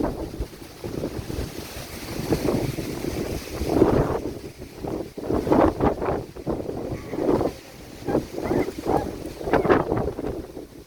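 Gusty wind roars and buffets the microphone in uneven surges, with a broad rushing texture and no talking.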